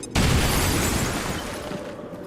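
A frag grenade goes off in XCOM 2 as a single sharp boom that decays over about two seconds, with no voices.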